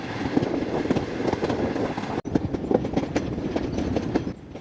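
Passenger train on the Lahore–Karachi line picking up speed, steady rumble with rapid clickety-clack wheel beats on the rails, close and continuous, briefly cut at one point before carrying on.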